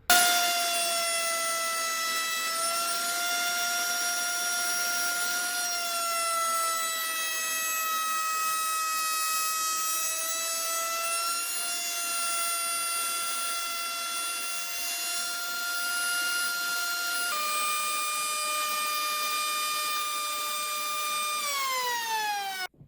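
Router spinning on a router table cutting wood, a high steady whine holding its pitch for a long stretch, shifting slightly as it cuts, then winding down at the end, clear with no talk.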